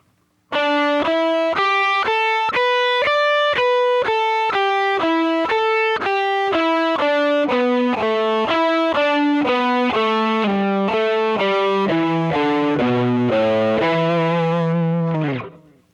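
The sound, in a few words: distorted electric guitar pentatonic lick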